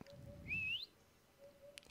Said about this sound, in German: Pfeife ich mal.